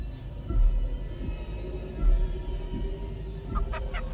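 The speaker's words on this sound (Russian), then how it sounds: "Это ж курица." Chicken clucking in the video game Chicken Feet, a few short clucks repeating over a steady background of game sound, moderately close and fairly loud, with no talking.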